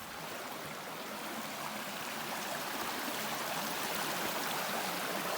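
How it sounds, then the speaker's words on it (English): Small streams running full along a muddy hiking trail in Vermont, a steady close rushing and trickling of water that fills the whole clip without a break. "These little streams are flush with water."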